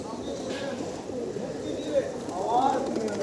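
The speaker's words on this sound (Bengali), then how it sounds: "কত পায়রা" A flock of pigeons coos softly in low, burbling calls near a dog, partly under a voice talking close by.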